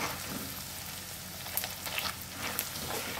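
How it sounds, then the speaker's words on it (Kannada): Garlic puffed rice frying in a pan makes a dense, continuous sizzle and crackle, close and steady throughout, with a few brighter pops rising out of the hiss. "ತೇವಾಂಶ ಎಲ್ಲ ಹೋಗಿ ಕ್ರಿಸ್ಪಿಯಾಗಿ ಆಗಬೇಕು, ಆ ಥರ ಫ್ರೈ ಮಾಡ್ಕೋಬೇಕು."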